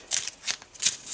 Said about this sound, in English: So just give it a quick shuffle.